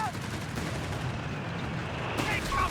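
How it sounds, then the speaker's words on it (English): American mortar firing from a mortar pit in the Company of Heroes 3 battle game: dense, rumbling battlefield blasts and booms that continue throughout, with a brighter burst near the end, probably under spoken commentary. "The mortar firing down here from the mortar pit."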